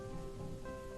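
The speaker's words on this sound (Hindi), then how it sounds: "रोको इस बारिश को, रोको।" Rain falls steadily in an animated children's fairy tale, a continuous close hiss of drops over a soft musical drone, with no voices.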